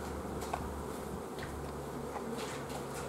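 Honeybees buzz steadily at the hive entrance while colonies are moved between wooden boxes outdoors, a continuous close drone with no talk.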